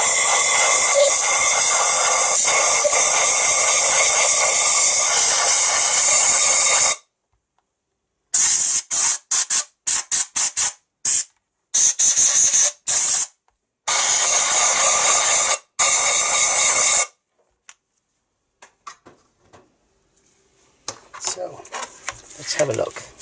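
Compressed air blasts through the oiler of a Stihl MS180 chainsaw: a loud, close hiss held for several seconds, then a series of short, sharp bursts, fading into faint handling noises.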